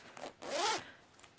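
A double zipper on a dog's winter jacket, silky outside with a fleece lining, drawn once in a single quiet, close zip of under half a second, with faint rustling before and after.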